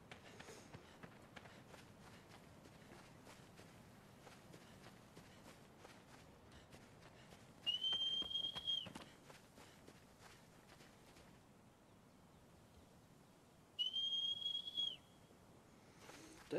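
Whistling to call the horse in the video game Shadow of the Colossus: two clear, sustained whistle tones, each about a second long, several seconds apart, standing out above quiet game ambience with footsteps underneath.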